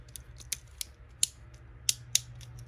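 A B-191 Overdrive Beyblade from a starter set being clicked by hand into its launcher, a handful of sharp plastic ratcheting clicks spread unevenly over a quiet hum, close and alone.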